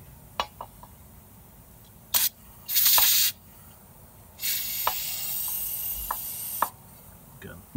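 Can of brake cleaner sprayed onto a wheel in short hissing bursts, a brief spurt, a one-second blast, then a longer two-second spray, separated by light clicks and handling noises, fairly close.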